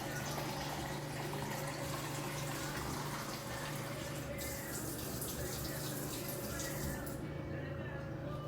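Brine is poured steadily over pork belly and brisket, a continuous close splashing and trickling of liquid filling a container.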